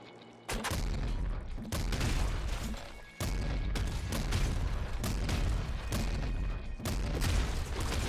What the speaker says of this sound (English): the explosion itself from that grenade launcher is also pretty damn big